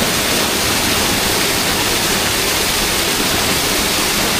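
Water of Lalghat waterfall rushes in a steady, loud broadband roar that fills the whole stretch without pause.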